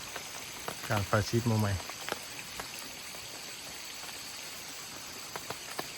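Rain falls steadily on a forest campsite during an overnight rainy-season camp in the jungle, a constant soft hiss with occasional sharp drips and ticks, while someone speaks briefly near the start.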